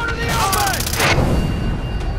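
In-game explosions and gunfire from Far Cry 3 burst loudly and close, with a heavy boom near the middle over a dense, rumbling battle din.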